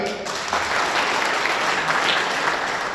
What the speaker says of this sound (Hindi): हमारे बड़े भाई दीपक बाली जी के लिए जोरदार तालियां